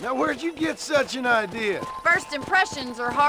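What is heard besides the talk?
No everyday noises stand out.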